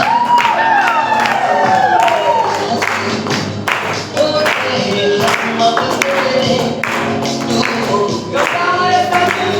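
Loud audience clapping and cheering at a stage event, with whoops and shouting rising from the crowd over about ten seconds of dense, steady applause.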